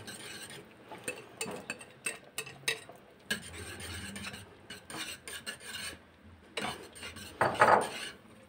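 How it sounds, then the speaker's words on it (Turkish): A yogurt mixture is stirred into wheat soup in a pot, with intermittent scraping and rasping strokes against the pot at an uneven rhythm, and a louder clatter near the end. "Karıştırarak, sürekli karıştırarak yavaş yavaş ilave ediyorum"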